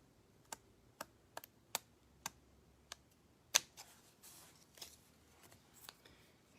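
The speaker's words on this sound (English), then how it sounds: "I think I'll use these bigger scissors for this." Large scissors cut paper along an edge while pumpkin crafts are made, giving about eight sharp, separate snips at an uneven pace, then a denser rustling stretch of paper handling at close range with no talking.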